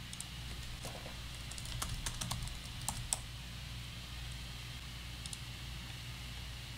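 A computer keyboard clicks as a caption is typed, giving quick irregular bursts of keystrokes with short pauses over a quiet room hum, near and soft, without speech.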